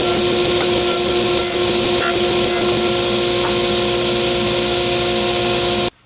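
A table saw fitted with a dado blade cuts a tenon shoulder on a children's rocking chair back support, giving a loud, steady machine whine with tonal hum and a few brief higher bursts before it cuts off abruptly.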